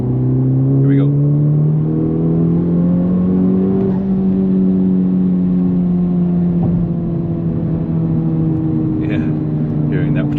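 Turbocharged Honda Civic FL5 with an aftermarket intake pulling hard under acceleration, a steady loud engine drone rising in pitch, with intake and turbo whoosh running through the whole stretch.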